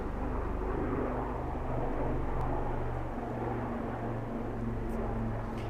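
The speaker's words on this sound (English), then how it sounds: "all we hear are military planes and military helicopters" Military aircraft flying overhead near a base, a steady broad roar with a low drone that holds for the whole stretch and drowns out other sound.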